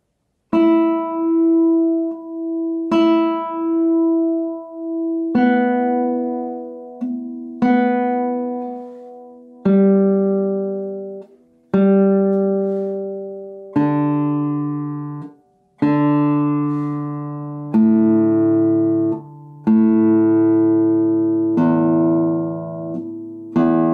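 Guitar notes plucked one at a time with a medium flexion of the playing hand, a series of about a dozen clear, ringing, sustained tones decaying between each pluck, close and alone.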